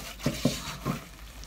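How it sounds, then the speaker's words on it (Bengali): Flour being stirred as it fries in oil and ghee with raisins for Sylheti halwa, three soft scraping strokes of the spoon against the pan over a low steady sizzle. "আরও 10-15 মিনিটের মতো ননস্টপ নাড়তে থাকব।"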